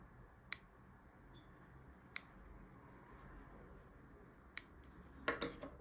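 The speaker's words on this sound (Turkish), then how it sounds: "İplerimizi dip kısmından keselim." Scissors snip embroidery threads close to the fabric during needlework, giving three sharp, isolated cuts spaced a couple of seconds apart and a quick cluster of snips at the end, faint and close against a quiet background.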